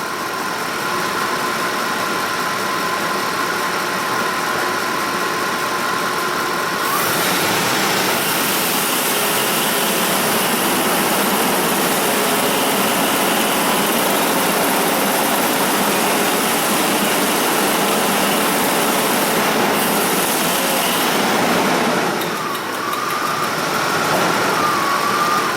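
A Ford car engine with a Smart Charge alternator that is not charging is revved. The engine holds a loud, steady, whining drone that rises in pitch as the revs climb, then settles back near the end.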